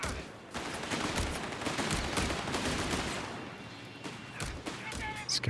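Machine gun fire in a Company of Heroes 3 battle, a dense rattle of automatic bursts mixed with other battlefield noise while a commentator talks over it.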